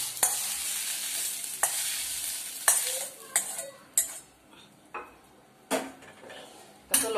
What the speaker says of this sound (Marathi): आता आपण खोबरं भाजून घेऊया।